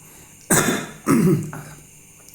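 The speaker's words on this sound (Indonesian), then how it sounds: "batuk" Two sharp, loud coughs about half a second apart, close to the microphone, followed by quiet room tone.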